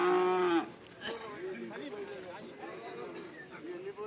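At a busy cattle market with bulls, oxen and buffaloes, a single loud, close moo rings out for about half a second, followed by a steady murmur of crowd chatter and people talking nearby.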